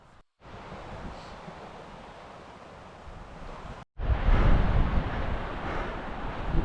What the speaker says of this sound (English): But it's pretty bloody windy.